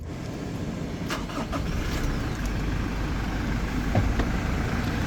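A 2021 Toyota Fortuner GX engine cranks briefly and fires, then settles into a steady, fairly loud idle up close with no voices.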